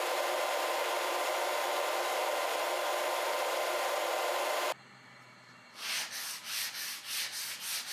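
A loud, steady rasping rush of wood being planed on a planing machine cuts off abruptly, followed by a series of softer rhythmic scraping strokes, while making a wooden workbench wagon vise.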